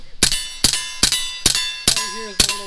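Bullets striking a steel target at a shooting range, six sharp ringing metallic dings at a steady rhythm, each decaying quickly, loud and clear with no talking.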